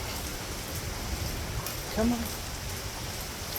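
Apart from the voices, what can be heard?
rain during Hurricane Milton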